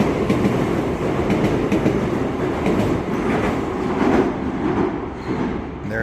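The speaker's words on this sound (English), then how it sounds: "But there goes the Shinkansen." Shinkansen bullet train in Japan rushes past close by as a loud, steady roar with faint rhythmic wheel clatter, heard alone without talk.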